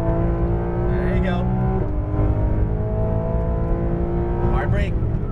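A Porsche GT3 RS on a race track drones steadily in the cabin, its engine pitch falling under hard braking and climbing again on acceleration, while a driving coach talks over it.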